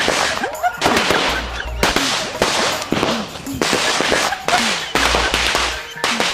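Firecrackers burst in a rapid series of loud sharp cracks, one after another with brief gaps, close by.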